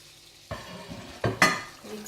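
Potatoes and eggplant with chopped green chillies and coriander are stirred in a frying pan over a soft sizzle, with a few distinct scraping knocks of the spoon against the pan.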